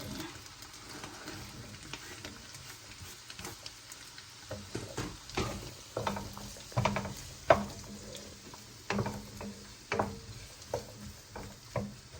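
Chopped onions dropped into a pan of hot oil for a Punjabi cauliflower curry, a soft sizzle under scattered clattering knocks and stirring taps that grow busier midway, no talking.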